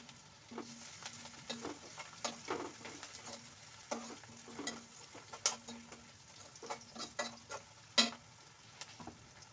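Crushed garlic being stirred into chana dal curry frying in a pan, with a steady sizzle under repeated scraping strokes of a spoon that come in irregular bursts, close and moderately loud with no talking.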